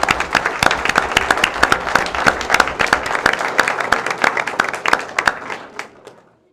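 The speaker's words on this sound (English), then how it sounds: "And we'll give you an opportunity to do that with one more round of applause." Audience applause at a school board meeting: a dense, steady patter of many hands clapping in a meeting room, close and fairly loud, tapering off and dying away over the last second.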